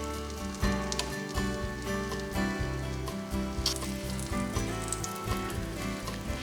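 Roti dough with egg and banana frying in a hot pan for Thai street-food banana roti, a steady loud sizzle and crackle running throughout, with faint music or tonal sounds layered underneath.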